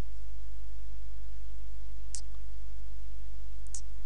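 A computer mouse clicks twice, crisp and close, a second or so apart, while working in SolidWorks CAD software, set against a steady low electrical hum.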